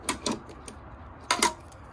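A 1/4 inch ratchet wrench fitted with an adapter clicks in two short bursts, each a quick pair of sharp, close ticks, separated by a pause.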